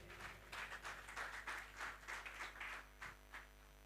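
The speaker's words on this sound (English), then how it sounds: "A round of applause to Dr." Audience applause greeting a speaker at the opening session of the Rwanda Climate Science Symposium, a quiet, fairly distant crowd clapping steadily for several seconds against a low background hum.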